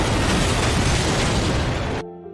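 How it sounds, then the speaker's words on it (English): A car explodes in a Korean drama scene: a loud, roaring blast of broad noise holds for about two seconds, then cuts off abruptly to near quiet. "Dong Chan interrogates Kaibum at the police station after hearing about the explosion of his car."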